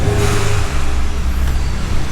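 A 2015 Ford F-150 EcoBoost fitted with a vent-to-atmosphere plug revs up to around 3,000 rpm, its loud, close engine note rising and falling with a brief shift partway through.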